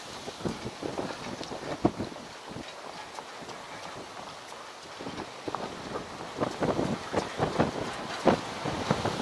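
Strong, gusty wind buffets the microphone during a drive along a coast, roaring in uneven rushes and thumps that swell louder toward the end, with no talking.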